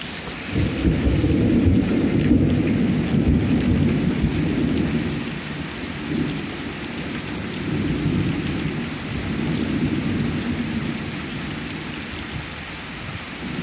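A severe thunderstorm in Pittsburg, Kansas: heavy rain pours steadily on surfaces while deep thunder rumbles continuously, loudest early and then easing slightly, with no voices.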